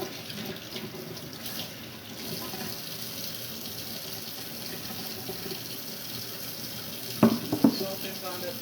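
Hands are washed under a running kitchen tap, giving a steady close hiss of flowing water with a few louder splashes near the end.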